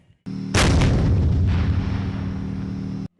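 A single heavy boom from a tank gun firing nearby on a firing range, followed by a rolling echo that fades over a couple of seconds over a steady engine hum.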